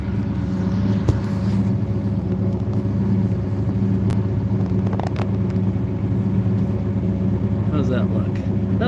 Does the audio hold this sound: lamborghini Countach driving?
yes